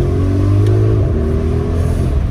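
An Audi RS Q8 engine revs as the car accelerates, a loud rising drone with strong low harmonics that holds steady, close by with no talk.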